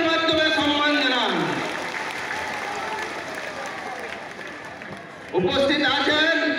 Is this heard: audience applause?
yes